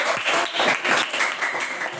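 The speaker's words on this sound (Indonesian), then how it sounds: "Berikan tepuk tangan untuk kelompok 1." Classmates in a school mathematics lesson clap for group 1, a lively burst of many hands in uneven waves that carries on for a couple of seconds.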